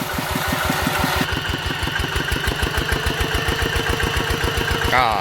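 A Kubota 9.5 hp single-cylinder water pump engine revs up from idle into a loud, fast, steady chugging close by, its pitch rising briefly near the end.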